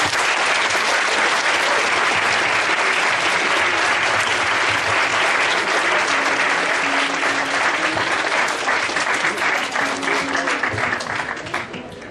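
An audience at a cultural event in Tultepec, Mexico applauds performers with dense, sustained clapping that stays loud throughout and tapers slightly at the end.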